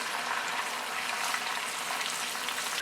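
Ginger and garlic fry in a pan for a fish green curry, giving an even, moderately loud broadband sizzle that holds steady throughout with no voices.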